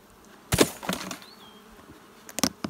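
Honeybees in a strong, opened beehive buzz steadily near and far, while sharp handling clicks and knocks from the hive frames come in short bursts, with no talking.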